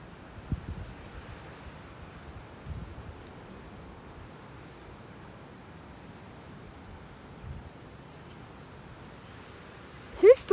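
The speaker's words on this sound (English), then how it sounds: "It's still so windy like this morning." Wind gusts steadily through a thunderstorm, a broad rushing roar with microphone buffeting and a few thumps, ending in a brief louder burst.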